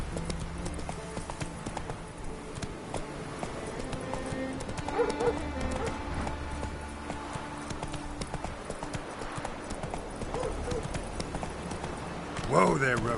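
Roach the horse trots in The Witcher 3 video game, a steady clip-clop of hooves on the ground running throughout, with a brief whinny near the end and a voice talking over the hoofbeats.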